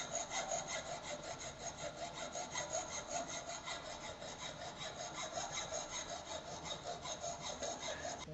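A hand file worked along the edge of a metal workpiece in a fitting shop, fairly quiet rhythmic rasping strokes repeating steadily back and forth.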